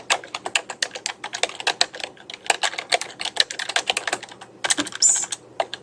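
Steady, rapid typing on a computer keyboard, with crisp key clicks in quick bursts and short pauses, close and clear with no voices.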